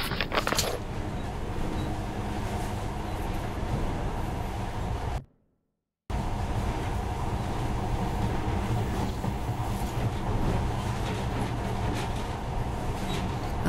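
A monorail train in the video game Metro Last Light runs with a steady rumbling, rattling roar, broken by one brief silent gap before resuming at the same level.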